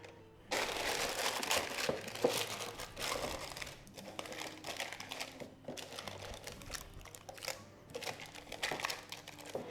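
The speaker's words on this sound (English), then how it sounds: "I'm going to put our greaseproof paper in here." Greaseproof paper is pressed into a baking tin for zucchini bread, giving a run of close, sharp crinkles and crackles in uneven bursts that follow a moment of quiet at the start.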